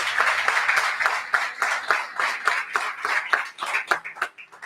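Applause from a church congregation: dense clapping from many people that thins out and fades near the end, with a faint tonal hum underneath and no clear talk.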